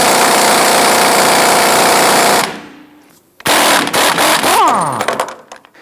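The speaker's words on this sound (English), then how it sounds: "We're going to use a 21mm socket with our impact gun." Pneumatic impact gun with a 21mm socket loosening the strut top nut on a 1994-2004 Ford Mustang, a loud sustained hammering rattle that stops abruptly, then after a brief pause a second shorter burst that winds down.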